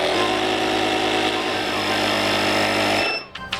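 Compressed air hisses and hums steadily into a motorcycle tire tube on a Husky 701 while the bead seats, a loud, close, continuous drone that cuts off near the end, followed by a few small clanks.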